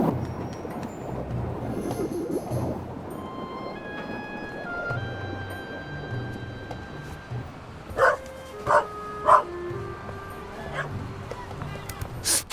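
A dog in The Raven Remastered video game barks three times in quick succession, loud and close, over a low game ambience with soft tones earlier.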